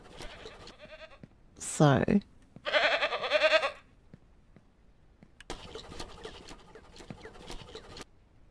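Goats bleat in the farming game Ranch Simulator, a loud wavering bleat followed by a second long buzzy one, then quieter farmyard clatter with a short spoken word.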